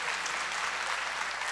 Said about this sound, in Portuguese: Vamos dar uma salva de palmas então para o Senhor